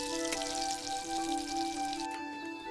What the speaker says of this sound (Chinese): 热锅下油，干煎15分钟